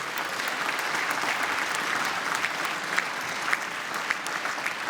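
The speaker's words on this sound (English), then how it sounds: "Round of applause, please," An audience at an athletics awards ceremony claps steadily for an artist, a dense, continuous wash of applause with a few sharper individual claps standing out.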